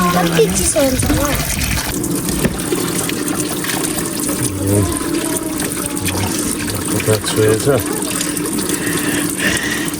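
Water runs and splashes steadily as something is washed, with people talking over the constant gushing.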